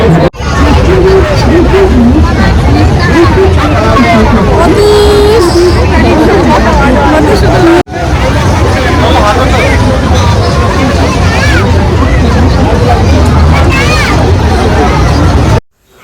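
Dense crowd hubbub at the Nabadwip Raas fair, many voices chattering at once, loud and continuous with a brief break partway through, steady mixed background murmur.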